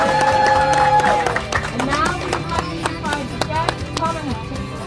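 At the opening of an Indonesian grocery store in the Chicago area, a crowd claps in sharp, scattered bursts and cheers, fading into mixed chatter and voices.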